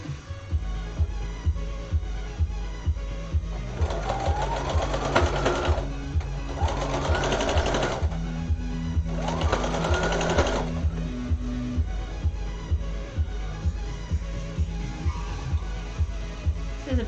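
A sewing machine stitches apron fabric with a steady, rapid mechanical chatter that runs throughout. Soft music plays in the background.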